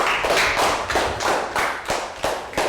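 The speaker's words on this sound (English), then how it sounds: "Round of applause for Pat." Children in a Year 3 classroom clap in applause for a classmate, a close burst of sharp, uneven hand claps with a few louder thumps, steady throughout with no talking.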